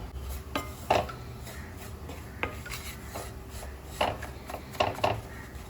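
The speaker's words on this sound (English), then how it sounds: "So take care that you fry it nicely without burning the besan." Besan (gram flour) being stirred as it roasts in a pan, with irregular scraping and clinking of a utensil against metal, a few sharper knocks, and a low background hum.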